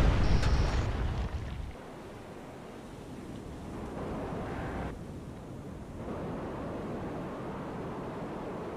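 Submarine missile launch in the naval warfare game Cold Waters: a loud broadband burst of launch rush in the first couple of seconds, then a sustained low roaring wash like surf that continues steadily to the end.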